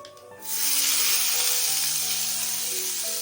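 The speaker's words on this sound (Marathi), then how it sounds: "आपण फोडणी देऊया वरनं" A sudden loud sizzle bursts in as hot oil tempering with curry leaves and asafoetida hits the chutney, then hisses on steadily, slowly fading slightly.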